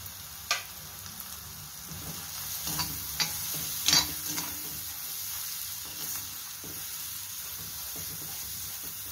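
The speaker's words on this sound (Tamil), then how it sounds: "காளான் நல்லா வதங்கணும்." Mushrooms and mixed vegetables sauté in a pan with salt and pepper, a steady soft sizzle with occasional scraping stirs and taps from a spoon, close and continuous with no talking.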